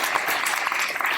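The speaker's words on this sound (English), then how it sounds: "can we just give them a round of applause?" A brief burst of audience applause for the hosts at a school candidate forum, with scattered clapping from a seated crowd that lasts just over a second.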